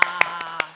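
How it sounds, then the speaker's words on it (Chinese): A cameraman clapping his hands, four quick sharp claps in a brief burst with a faint tonal hum between them, close and clear. "看连我们的这个摄影师哦都已经鼓掌嘞"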